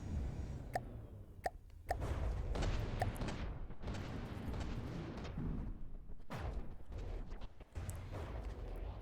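Incoming naval shellfire and missile strikes in the ship-combat game From the Depths: a steady rumbling barrage of booms and sharp impact cracks, some clustered, continuing across the whole stretch with no talking.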